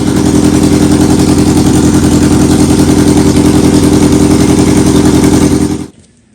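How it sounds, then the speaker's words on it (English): A 2003 Yamaha R1 sportbike engine idles steadily and loudly up close with an even, rapid pulsing, then shuts off abruptly near the end, leaving near silence. "now we'll start the bike up"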